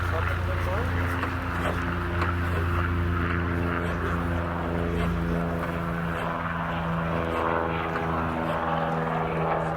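A Yak-50 aerobatic aircraft's radial piston engine running on the ground after long storage, a steady loud droning rumble with strong humming tones, while people talk over it.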